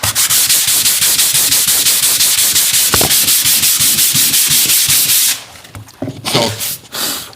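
Loud, rapid rhythmic scraping of a sanding machine grinding across a wood floor, running steadily for several seconds before cutting out into quieter rubbing sounds.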